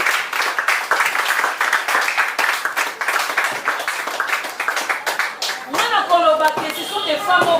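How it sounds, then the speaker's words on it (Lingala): An audience at a charity event claps and applauds in a sustained, dense burst of many hands, fairly close, while a voice speaks over the clapping toward the end. "Est-ce qu'on peut acclamer pour ces vaillants?"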